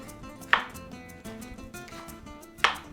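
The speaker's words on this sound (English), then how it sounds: "Just go ahead and start chopping it." A bunch of fresh herbs being chopped on a cutting board, two sharp knife strikes about two seconds apart, close and distinct over a quiet kitchen background.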